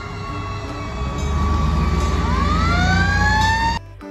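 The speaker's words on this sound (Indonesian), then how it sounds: "Ini ada mobil pemadam kebakaran warna merah." A red fire truck sounds its siren, loud, close rising and sweeping tones over a low engine rumble, cutting off abruptly near the end.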